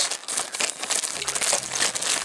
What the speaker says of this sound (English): I forgot my knife. It's okay. I'll just rip them open.